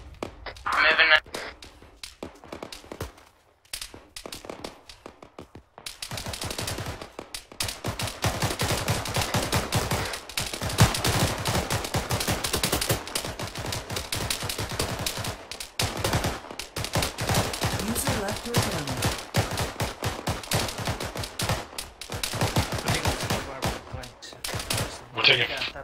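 Sustained gunfire crackles through a firefight in the military shooter Arma 3, dense bursts of rifle and machine-gun shots layered over one another at mixed distances, with radio-style voices heard at moments.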